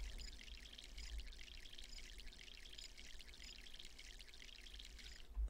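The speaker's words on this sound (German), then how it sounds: "gießen wir den hier." A steady, hissing stream of water pours while a plant is watered in the video game My Sims. It is soft and continuous, with a low hum underneath and no talking.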